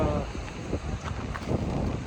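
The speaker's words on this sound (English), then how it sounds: "today is a little windy" Wind at a beach buffets the microphone in uneven gusts, a low rumbling rush throughout.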